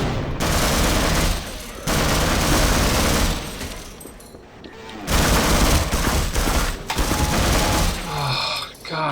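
Sustained assault rifle fire in the video game Half-Life, loud dense bursts of rapid shots in two long stretches separated by a brief pause, with game effects near the end.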